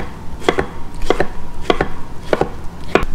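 A knife dices food for a mango chili salsa on a cutting board, sharp close chops arriving in quick pairs at a regular rhythm, with no talking.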